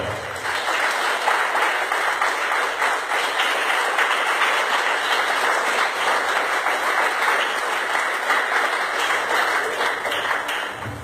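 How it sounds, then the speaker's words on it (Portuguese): Church congregation applauding during a worship service, loud sustained clapping from a large group filling the hall evenly, with faint voices underneath. "Aplauda o Senhor Jesus"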